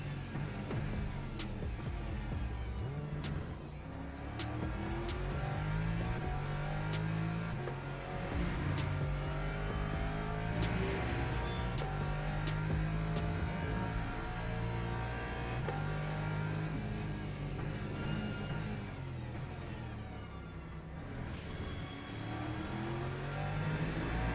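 BMW race car in the Le Mans Ultimate sim at Catalunya, a steady loud engine drone rising and falling through revs and gear changes, continuous from start to end with no pause.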